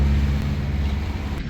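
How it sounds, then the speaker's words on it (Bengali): Fishing trawlers returning from the sea on the morning tide chug into a narrow Sundarbans canal one after another, their engines a steady, close, low throbbing drone with no talk over it. "একের পর এক ট্রলার ঢুকতে শুরু করলো এই খাল দিয়ে"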